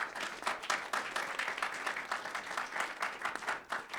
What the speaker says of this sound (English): give Patricia and the others a big round of applause